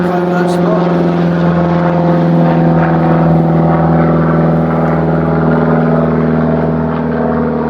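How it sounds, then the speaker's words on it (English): A propeller aircraft drones overhead at a woodland camping spot, a loud steady engine hum with strong low tones holding throughout, a voice faintly talking beneath it. "apologise for the air traffic."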